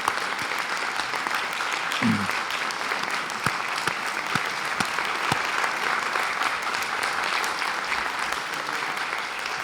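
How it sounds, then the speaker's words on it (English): Sustained audience applause fills the hall at an alumni association awards ceremony, a continuous dense patter of many hands with a few sharper individual claps standing out, fairly close and steady. "For a round of applause."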